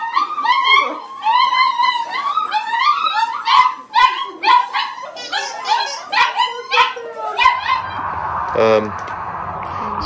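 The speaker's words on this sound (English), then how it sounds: "That's a lot of puppies." A crowd of puppies at a breeder's kennel fills the air with continuous high whimpers, yelps and barks overlapping one another, close and busy throughout.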